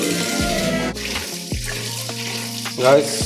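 Fenugreek and fennel seeds sizzle in hot oil in a cooker while being stirred, a steady close frying hiss with scraping touches over a low background hum.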